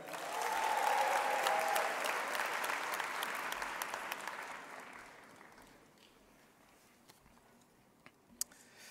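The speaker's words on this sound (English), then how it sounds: "More big claps for the best PDBA student in financial accounting" Audience at a university autumn graduation ceremony applauding a top financial accounting student, a dense wash of clapping from a large crowd that swells quickly, then thins out and fades to scattered claps.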